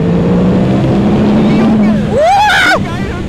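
A Yamaha R1 motorcycle on the autobahn in third gear: its engine roars loud and steady, then climbs sharply in pitch as it accelerates. Wind rushes over it, and a voice speaks throughout.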